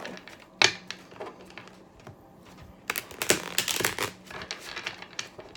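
Crisp, rapid riffling and slapping of tarot cards, with bursts of shuffling in two main runs separated by quieter rustling, close up and without talk.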